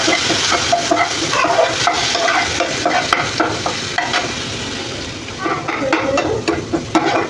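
Cumin and a coarse chili paste frying in hot ghee give a close, crackling sizzle, with a spoon scraping and stirring in rhythmic bursts and the hiss easing briefly before picking up again.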